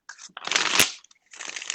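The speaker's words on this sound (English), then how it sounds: "shuffle like riffle shuffle, but then they refuse to cooperate" Playing cards riffle shuffled, a brief crackling flutter followed by a louder, denser burst of snapping cards, a short pause, then another softer run of riffling, close and alone.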